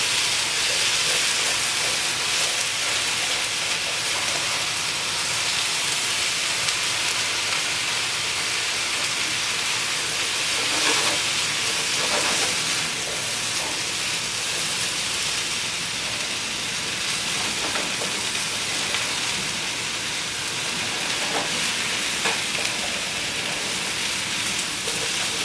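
Asparagus sizzling in a hot pan, a steady loud hiss with soft clatters from stirring, continuing without pause throughout.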